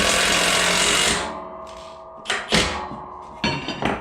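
Bolt on a snow plow's A-frame tightened with a 19mm socket and wrench, a loud buzzing power-driver run that stops, then a few short ratcheting bursts and metallic clunks nearby.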